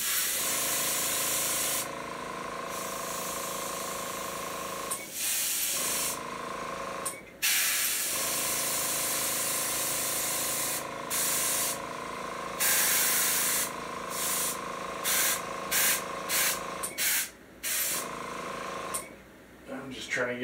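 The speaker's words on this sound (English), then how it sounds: "I'm just trying to get some of this airbrush done" An airbrush spraying paint in repeated bursts of steady airy hiss, some long and some short, close to the listener, with a person speaking intermittently between and over the spraying.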